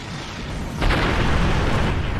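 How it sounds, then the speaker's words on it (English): Energy weapons striking a time portal in Star Trek Online, a sudden booming hit that swells into a sustained loud roar and rumble, with no voices. "The Heralds are firing on the portal!"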